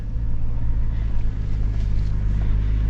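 A Toyota Land Cruiser Prado crawls slowly up an off-road trail, its engine a steady, loud low rumble with constant broadband road and tire noise and no speech.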